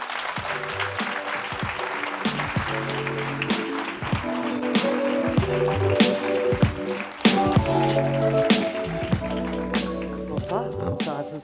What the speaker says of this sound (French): je vous demande d'accueillir sous vos applaudissements Madame Claudie Hanoret.